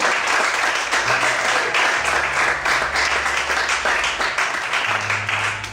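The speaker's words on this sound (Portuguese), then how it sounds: "Quem acredita nisso, aplauda e glorifique a Deus." A church congregation breaks into loud, sustained applause during a sermon, many hands clapping in a thick continuous roar for nearly six seconds, with low sustained organ or keyboard tones sounding beneath it.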